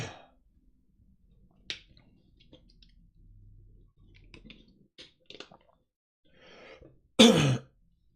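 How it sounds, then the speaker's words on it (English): A single loud cough bursts out near the end during a live stream, coming after a stretch of quiet clicks and scattered faint noises. "Sorry for the cough."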